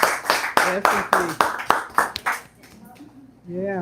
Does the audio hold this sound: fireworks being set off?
no